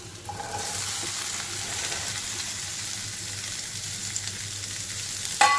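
Chopped okra and a finely cut green chili fry in a pan with a steady, even sizzle close by, ending in a brief clatter of stirring.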